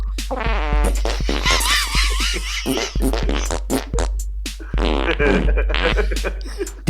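A comedic fart remix sound effect: a rapid string of loud, sputtering fart noises cut to a musical beat, with pitched squeaks and bursts running continuously and densely for several seconds.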